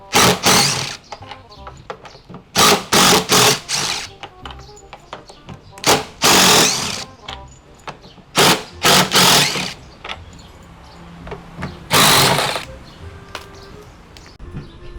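Nuts being removed from the drum of an Electrolux EWF 10751 washing machine, heard as loud, short bursts of mechanical whirring repeated at irregular intervals, separated by quieter handling noises.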